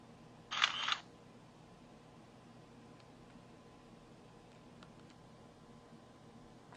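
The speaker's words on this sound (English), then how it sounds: "the shutter button takes the picture" A single camera shutter click early on, short and fairly close, followed by quiet room hiss.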